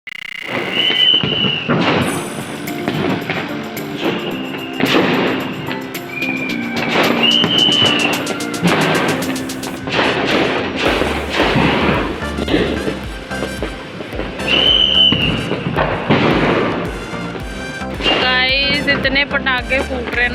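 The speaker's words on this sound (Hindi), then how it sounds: "ये देख रहे हो कितने पटाखे फट रहे हैं" Repeated sharp Diwali firecracker bursts pop and crack in quick irregular succession, some close and loud, with people talking over the din.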